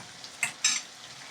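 A spoon stirs a drumstick and tomato curry mixture in a pan, giving two short, close scraping and sizzling bursts against a faint background hiss.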